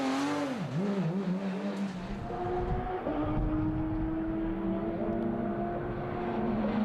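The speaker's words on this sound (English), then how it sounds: "Engine dies again, but then Capras can restart the engine quite quickly, and he's off." A Porsche GT3 race car engine at a circuit race at Spa fires up and revs, its tone rising and sliding before holding a steady, loud drone as the car pulls away.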